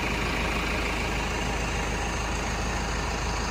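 A tractor engine runs steadily in a rice field during seeding, heard from the cab as a loud, unbroken, rumbling drone with a constant low throb and no talking.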